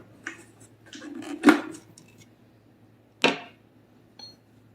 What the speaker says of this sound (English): I'll scrape the sides of the mixer.